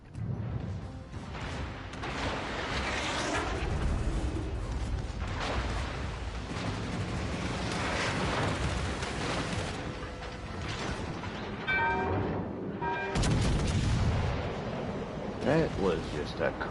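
Battleship main guns firing on the Iowa in World of Warships Legends, heavy booming blasts and rumbling impacts over a continuous game soundscape, with someone talking over parts of it.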